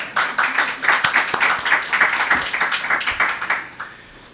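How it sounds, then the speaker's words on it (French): An audience at a Moroccan lecture series breaks into clapping, rhythmic hand claps in quick pulses that build together, then taper off and fade to near silence by the end. "Ça mérite des applaudissements."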